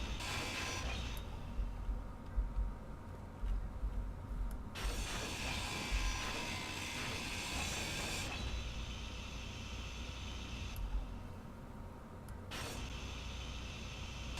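A grinder dismantles blocks in the video game Space Engineers, giving a steady mechanical whir that runs in long continuous stretches with brief pauses between them. The sound is moderately loud and heard alone, with no talk.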